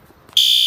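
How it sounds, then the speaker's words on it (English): A loud fire alarm cuts in abruptly after a near-silent moment and holds a steady, piercing high electronic tone at constant volume to the end. "it's a pretty loud alarm from over here."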